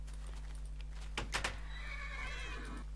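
A horse in a video game neighs with a rising, wavering whinny, accompanied by a few clip-clop hoof sounds over a steady low electronic hum.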